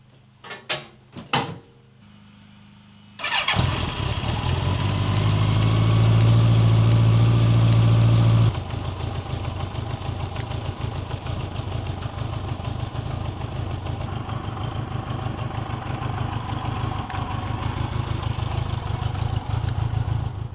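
A motorcycle engine fires up after a few clunks, revs loudly for several seconds, then settles into a steady, rumbling idle that continues close by for the rest of the clip, with no talk.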